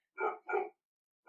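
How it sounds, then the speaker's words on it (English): A hound dog gives two quick, distinct barks in a row, fairly close and clear against silence, with the start of a third sound at the very end. "Can you hear the dog barking?"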